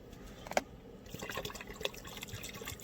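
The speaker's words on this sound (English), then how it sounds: "So I'm gonna add a little bit more water" Water is poured into a container of meat soaking in brine, a soft, faint trickle and splash under a little background noise, with no talking.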